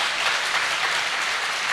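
Applause from the audience at a Lit for Life literary festival panel on women, a steady wash of many hands clapping at even loudness throughout, with no voices over it.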